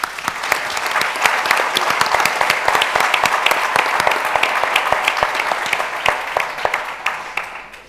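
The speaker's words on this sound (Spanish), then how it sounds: "así que un aplauso para Lidia" Audience applause at a congress workshop on assistive technology, a full room clapping continuously for nearly eight seconds with sharp individual claps standing out, steady and close, tapering slightly at the end.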